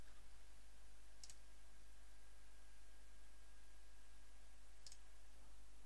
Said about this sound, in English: it all just comes down to clicking the next button